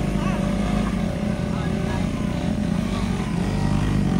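Steady, loud engine drone of a Raider 150i motorcycle riding at speed, with heavy wind rush throughout and no break in the sound.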